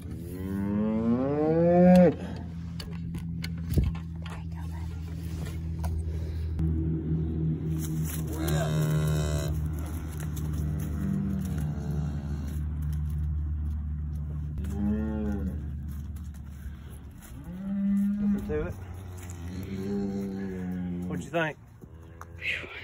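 Cattle mooing repeatedly while a young bull calf, less than a week old, is caught and tagged on a farm; loud drawn-out bellows come close by, with people talking in between and a steady low hum under it.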